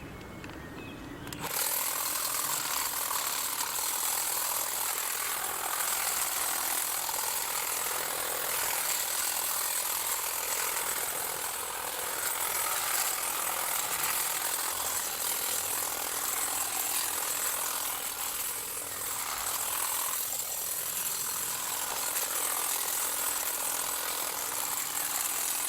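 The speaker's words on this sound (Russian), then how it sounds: "Для этого я беру триммер вот такой вот." A string trimmer whines steadily as it cuts through blackberry bushes, its bright buzzing holding continuously for over twenty seconds with slight variations as it chews into the brambles.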